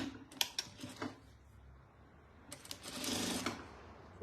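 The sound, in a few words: sewing machine stitching a securing seam on fabric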